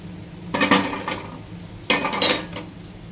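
Two clinking, scraping bursts of a spoon stirring rice and milk in a metal cooking pot, close and clear, with no voices.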